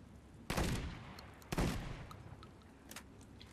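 Double pump shotgun in the game Deadrop firing two sharp blasts about a second apart, each trailing into a decaying rumble, followed by faint clicks and handling sounds.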